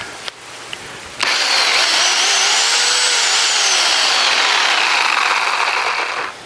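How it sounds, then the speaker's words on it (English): A small motor starts with a click and then whines loudly and steadily for several seconds, close by, its pitch rising slightly and settling, like a chainsaw running. "And I got a little chainsaw."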